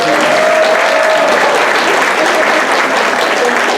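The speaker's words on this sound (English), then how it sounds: "Matthew and DJ, big round of applause for them" Steady applause from a gala audience at CSU Monterey Bay in Seaside, California, loud and sustained throughout without any break.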